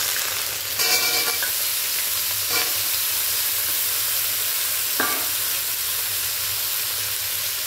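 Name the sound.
pumpkin frying and stirring in pan for chutney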